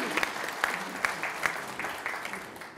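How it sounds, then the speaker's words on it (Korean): Audience applause for a high school student council president at a provincial governor's visit in Seosan, a modest clatter of hands with a few sharper claps standing out, fairly soft and short. "우리 박재서 학생회장님께 우리 박수 한번 좀 보내주시겠습니까?"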